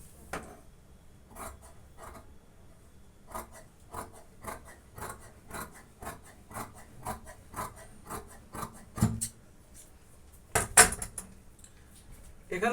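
Scissors cut waistband fabric with a steady run of short, evenly spaced snips, close and fairly loud, ending in a louder rustle of cloth being handled.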